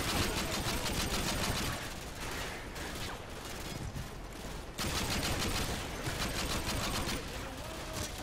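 Continuous rapid rifle fire from a SCAR in the Call of Duty Modern Warfare 2 video game, loud and dense bursts filling the whole stretch with only a brief dip midway.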